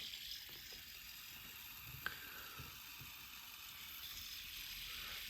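Spinning top from a KAP collection whirling on its bearing: a steady, high, close buzzing whir with a faint ratcheting texture and one small tick, with no talking.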